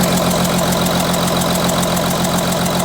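A loud diesel engine of an Audi Q7 with a compression leak idles steadily up close, with a rapid, even knocking rhythm throughout and no voices.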